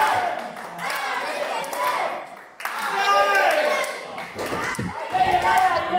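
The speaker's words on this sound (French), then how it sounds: "Et la foule qui acclame Allez Kevin." A crowd cheering at a wrestling match, a loud, dense roar of many voices with shouts and chanting that swells and dips, while a commentator talks over it.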